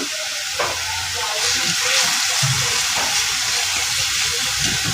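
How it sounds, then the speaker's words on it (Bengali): Garlic paste fries in a hot pan for doi katla, a yogurt catla fish curry, giving off a loud, close, continuous sizzle and hiss with faint stirring scrapes. "এবার রসুনের পেস্টটাকে দিয়ে দিচ্ছি।"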